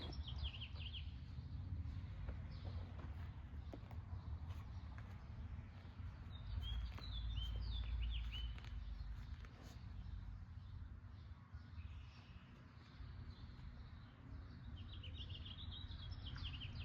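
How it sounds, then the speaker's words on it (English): Small birds chirp and sing in a garden, thin high calls scattered over a steady low rumble of outdoor background noise, fairly faint and distant with no one speaking. "enjoy a day listening to the birds"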